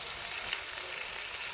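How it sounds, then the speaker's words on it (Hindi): Onions frying in ghee for a kaleji fry, giving a soft, even hiss that holds steady for a moment at low volume with no voices. "अभी घी जो है ना, घी तैयार हो गई। अभी हमें प्याज डालना है।"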